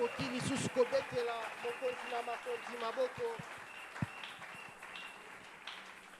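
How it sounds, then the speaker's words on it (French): Congregation cheering and applauding during a celebration church service, a steady mass of clapping with scattered shouts under a voice speaking over the crowd, moderately loud and tapering off toward the end. "Est-ce qu'on peut encore acclamer pour le roi des rois?"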